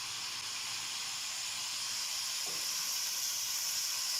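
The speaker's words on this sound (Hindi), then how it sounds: "और इसको मैं अच्छे से तकरीबन 2 से 4 मिनट के लिए अच्छे से इसको फ्राई कर लेंगे हम।" Chicken and green chillies fry in a pan, a continuous close hiss and sizzle with a brief stir or tap partway through, no voices.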